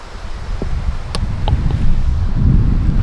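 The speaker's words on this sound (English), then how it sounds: "I'm talking and there's wind" Strong wind buffeting a microphone on the shore of Lake Superior, a loud continuous rumbling roar that thickens toward the end, with a few faint clicks in between.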